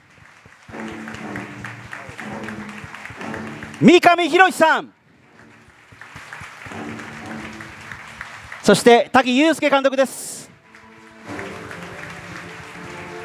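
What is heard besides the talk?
audience applause for cast and director at a screening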